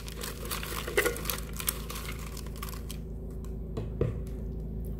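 Tarot cards being shuffled in cramped space, producing dense crinkling, riffling rustles with a few sharper flicks, close and fairly loud, with no talking.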